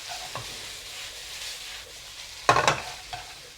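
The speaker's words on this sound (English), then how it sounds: "Make sure that the noodles are pan fried a little bit dry so that they can absorb the sauce better" Instant noodles with onions for a stir-fried beef ramen are tossed in a pan with chopsticks, giving a soft sizzle under a few scraping, clattering stirs, with one louder burst of clatter partway through.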